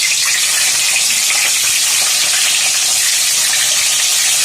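Boiled eggs frying in hot oil with a little turmeric in a pan, a loud, close, continuous sizzle hissing steadily throughout with no speech.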